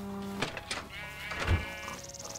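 Sheep bleating in Minecraft: a few short wavering bleats close up, overlapping one another, over a quiet game background.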